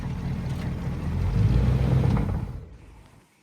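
A 1959 Cadillac's engine, running after years of sitting, gives a steady low rumble that swells in the middle and then fades away toward the end.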